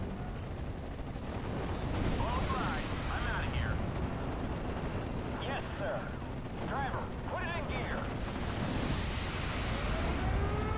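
Rocket strikes explode in a Steel Division: Normandy 44 4v4 battle on Omaha, rolling booms and crackling blasts layered over continuous battlefield rumble and distant gunfire, loud and dense throughout the stretch.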